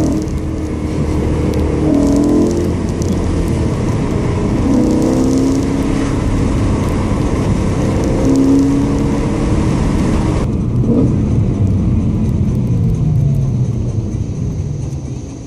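A BMW E92 M3 with its 420 PS V8 is driven, the engine and exhaust droning and rising through the revs as a steady, loud interior rumble, with a sharp drop in road noise near the end and no speech.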